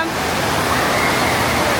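Broad, constant rush of splashing water fills an indoor water park with slides and tipping water buckets, loud and enveloping throughout with no clear voices.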